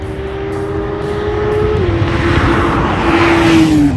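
A 150,000-mile Mk2 Ford Focus RS driving on a track, engine droning loudly and steadily close by, pitch dipping at a gear change then rising again as it pulls away.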